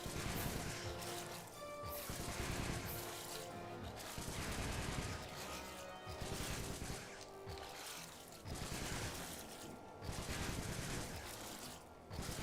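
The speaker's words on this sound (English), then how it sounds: "Nice shooting, Bentley." Bentley firing away in the PS2 game Sly 3: Honor Among Thieves, a dense, loud run of rapid gunshot-like bursts over busy game music and effects, repeating in waves throughout with no talk.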